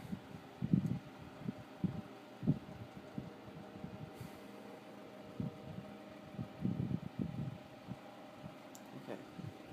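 A Montgomery Wards Knapp-Monarch 10-inch oscillating desk fan runs close by with a steady low hum, plus irregular rattling thumps from vibration that repeat throughout.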